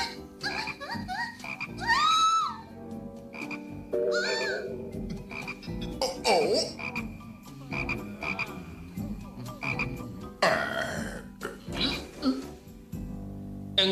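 Frogs croaking loudly and continuously in a cartoon retelling of the plague of frogs in Egypt, a dense chorus of overlapping warbling, gulping croaks close up with no gaps.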